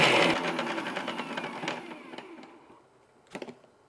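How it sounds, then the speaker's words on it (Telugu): A mixer grinder crushing green chilli, garlic and salt in the kitchen: a loud whirring grind at first that winds down and thins into rattles, ending with a couple of short bursts. "సో మనం ఇట్లా మిక్సీ పట్టుకొని చేసుకోవాలి దీన్ని"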